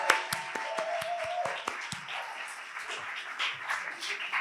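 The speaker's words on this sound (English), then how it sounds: "So can everyone have a round of applause for 1010?" A smaller audience at a student talk applauds with distinct, uneven claps, sharpest at the start and thinning out, with a brief tone in the background.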